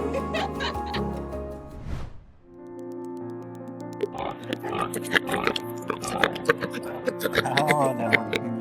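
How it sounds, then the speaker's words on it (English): A binturong gives a run of grunting, snuffling squeaks and chirps as a greeting, rising in pace after a brief pause, close and fairly loud. "The binturong shows affection for its owner with a uniquely charming greeting every time they meet."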